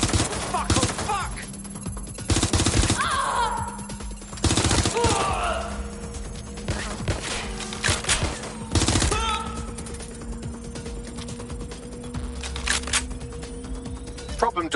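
Gunfire in the Watch Dogs Legion video game, with repeated sharp bursts of shots spread across a tense firefight, loud and close at times over a steady hum, with voices heard briefly between the volleys.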